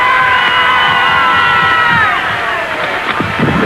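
Election night crowd cheering for president-elect John F. Kennedy in 1960, a dense, loud wall of shouts and whoops from many people with high voices rising above it, steady throughout.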